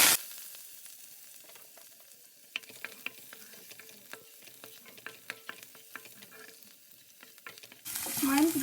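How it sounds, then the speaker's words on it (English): Hing, turmeric, garlic, coriander and curry leaf hit hot oil in a pan with a faint, low sizzle, punctuated by scattered sharp spoon clicks and taps, ending in a louder hissing surge. "I have heated the oil in the pan and now I am going to add little bit of hing, some turmeric powder, garlic, coriander and curry leaf"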